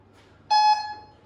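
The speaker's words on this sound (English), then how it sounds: "Wait for the beeps." Workout timer at a bootcamp session giving a single sharp electronic beep, clear and fairly loud over a quiet room, ending abruptly after a short tone.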